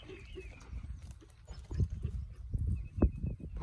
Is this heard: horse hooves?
yes